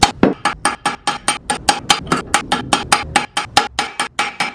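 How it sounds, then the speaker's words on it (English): An old bearing race and a large socket are hammered to tap a new bearing into a mini spool install, a rapid even series of about twenty sharp metallic knocks, close and loud. "I have the outside portion of my old bearing I'm gonna use to start kind of tapping it in."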